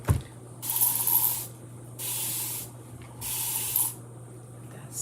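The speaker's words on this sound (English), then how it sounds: "Let's spray it on this side." Three long hissing bursts from a spray bottle, close and fairly loud, with short quiet gaps between them and a low hum underneath.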